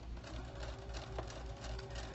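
A domestic sewing machine running a straight stitch, a steady mechanical whir with a fast even rhythm that holds for the whole stretch at a moderate, close level.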